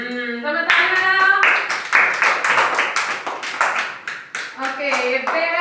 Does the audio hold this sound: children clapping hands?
yes